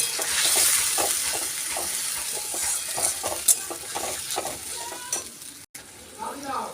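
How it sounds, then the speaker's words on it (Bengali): Ground ginger, cumin, chilli and coriander pastes fry in a pan with a steady hiss and sizzle, broken by repeated scraping stirs and a few light clinks of the utensil, all close by. "এর মধ্যে একে একে বেটে রাখা সমস্ত বাটা মশলাগুলো দিয়ে দেবো এর মধ্যে আছে আদা বাটা জিরে বাটা লঙ্কা বাটা এবং গোটা ধনে বাটা"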